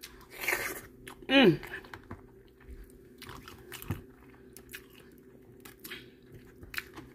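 Someone eats a seafood boil with crab legs: a few close bites and crunchy chews sit between quiet stretches, with brief murmurs and talk.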